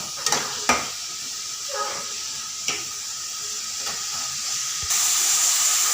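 Sliced onions and mushrooms sizzle steadily in a hot pan on the stove, a continuous frying hiss broken by a few sharp stirring clanks of a utensil against the pan.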